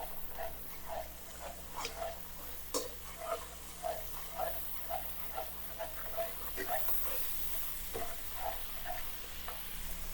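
Garlic frying in a pan for pork humba, a soft continuous sizzle under a steady run of light stirring and scraping taps, with a voice speaking quietly over it.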